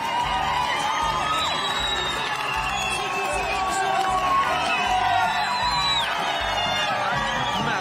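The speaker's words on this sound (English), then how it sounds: "Massive crowd, 10 deep at times in the barriers." A massive roadside crowd at a UCI cycling championship race in Kigali, Rwanda, whooping, shouting and cheering continuously with a rhythmic beat underneath and a commentator speaking over the din.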